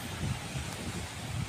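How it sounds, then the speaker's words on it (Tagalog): Steady, moderately loud wind roars across the microphone by the sea, a continuous low rumbling buffet with slight gusty swells and no voices. "Malakas yung hangin."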